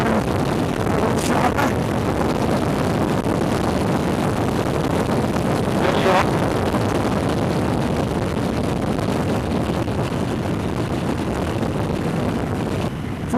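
A CFMoto 650MT motorcycle cruises in fourth gear in sport mode, its steady engine drone buried under heavy, constant wind roar across the whole stretch.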